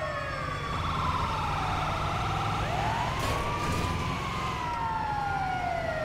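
Wailing ambulance siren in the video game GTA 5, a sustained loud rising-and-falling tone close by over vehicle rumble, with a second siren sweep joining midway.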